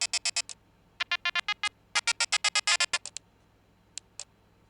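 A phone ringtone from an animation render trills in rapid bursts of bright electronic beeps, several quick groups of pulses in a row, then two lone beeps after a pause, loud and close with no talk.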